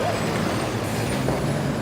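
Truck on a New York street in Manhattan, Soho area on a hot afternoon: a loud, close engine rumble with an air-brake style hiss amid steady street noise.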